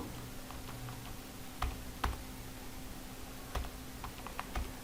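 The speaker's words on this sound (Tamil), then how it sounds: "இப்போ வாத்தியார்னு டைப் பண்ணுறேன்." Typing on a computer keyboard while entering a word in MS Word, scattered light clicks and a few sharper key taps over steady room hiss, close and quiet, with no talking.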